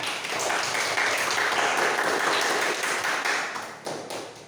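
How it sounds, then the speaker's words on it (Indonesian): A room full of people applauds, a dense patter of claps holding steady for several seconds before tapering near the end. "Tepuk tangan untuk Mican."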